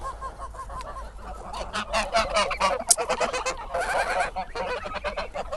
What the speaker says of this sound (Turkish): Şöyle göstereyim size kazlarımızı.